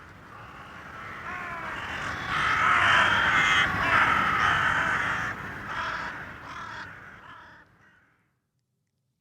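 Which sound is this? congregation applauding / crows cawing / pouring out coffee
crows cawing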